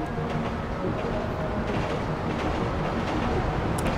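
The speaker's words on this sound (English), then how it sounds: "All right, here come the train." A train rolls into a station in Grand Theft Auto 5, its steady, dense rumble and faint clattering wheels filling the scene at a constant loudness, with a voice speaking over it.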